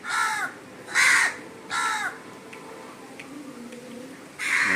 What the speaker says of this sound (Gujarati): જો આ કાં કાં કાં કાં આ સામેની પારી ઉપર છે ને